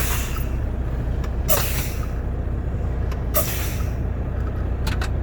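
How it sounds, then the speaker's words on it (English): Sharp hissing bursts of a truck air brake being fanned repeatedly during a pre-trip air brake inspection, several short releases over a steady low engine hum, no talking. "So now I again fan the brake not less than 100 psi."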